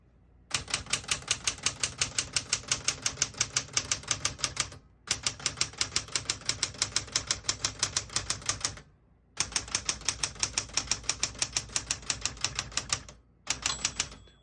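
Rapid, steady keystrokes of a 1966 Smith-Corona Galaxie II manual portable typewriter clack in four long bursts separated by brief pauses, loud and close with no voices.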